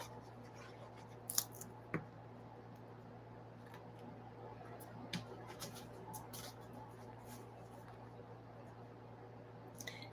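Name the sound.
scissors cutting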